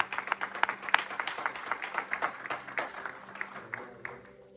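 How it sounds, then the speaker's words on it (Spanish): A church congregation gives loud, sustained applause after a sermon, dense clapping swelling and fading across the whole stretch with a few sharper peaks, no talk over it. "Vamos a darle un fuerte aplauso al Padre y al Espíritu Santo."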